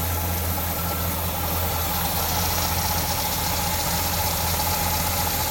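A restored Pontiac GTO engine, warmed up, idles smoothly with a steady low rumble and even hum that holds constant at moderate loudness, with no voices.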